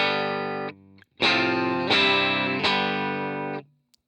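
Distorted electric guitar chords from the bridge pickup through a UA Dream '65 amp modeler on its Super Reverb setting, bright and biting, struck four times with sustained ringing and brief gaps between them.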